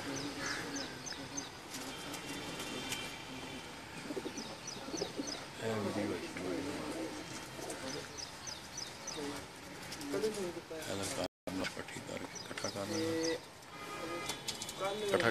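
Pigeons coo on a rooftop in repeated low, rolling calls, with other birds chirping and voices murmuring in the background.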